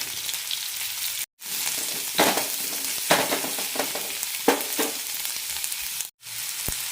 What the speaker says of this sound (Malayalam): എണ്ണ ചൂടായിട്ടുണ്ട് ഇതിലേക്ക് സവാള എണ്ണ ഇട്ട് കൊടുക്കാം കൂടെ തന്നെ ചെറിയുള്ളി വെളുത്തുള്ളി ചുവന്നമുളക്